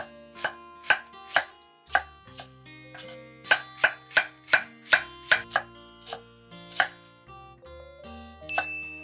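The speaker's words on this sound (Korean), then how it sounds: "양파는 반으로 잘라준 뒤 슬라이스 해주세요" A knife slices a halved onion on a cutting board, giving about fourteen crisp, evenly paced thuds close up. They come in quick clusters with short pauses between, and nobody speaks.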